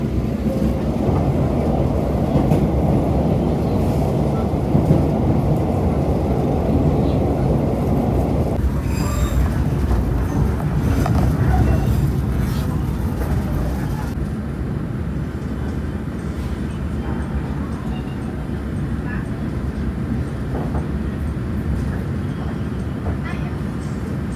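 The Kertanegara economy train from Malang to Yogyakarta rolls along loudly from inside the carriage, with a continuous roar, wheel squeal and rattling; a voice talks over it.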